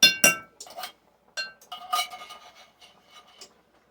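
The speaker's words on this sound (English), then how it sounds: "I am going to take my spoon and I am going to scrape the sides of it" A spoon scrapes and clinks against the sides of a dish during cooking, with sharp close clinks up front and a series of lighter scraping taps after.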